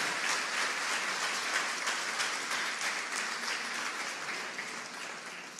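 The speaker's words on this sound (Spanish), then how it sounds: "Alguien déle un aplauso al Señor por eso" A church congregation bursts into sustained applause, a dense wash of many hands clapping that holds steady and then slowly tapers off, with no voices over it.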